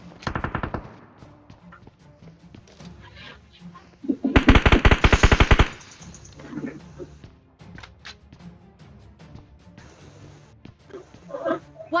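Loud bursts of automatic gunfire in the mobile battle royale game PUBG Mobile, a short burst at the start and a longer rapid volley midway, with scattered quieter shots and game sounds between.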